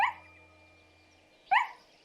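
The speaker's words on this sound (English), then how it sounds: "Just then she heard the sound of barking" Dog in a children's cartoon barking twice, two short sharp barks about a second and a half apart, clear and close with quiet between them.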